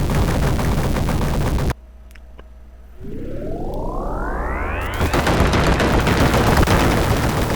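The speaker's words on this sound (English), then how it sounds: "The Technodrome just had a techno explosion, of course, and now it's totally destroyed." Arcade-game explosion of the Technodrome in Konami's 1989 Teenage Mutant Ninja Turtles: a loud crashing burst cuts to a low hum, then a rising synthesized sweep builds into a dense, roaring wall of noise.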